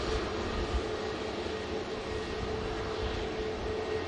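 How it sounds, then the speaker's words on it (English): KLM Airbus A321neo airliner on the move at Manchester Airport, a steady broadband jet engine roar with a faint whine, constant in level, heard from a distance outdoors. "Oh, KLM. A321 Neo on the move."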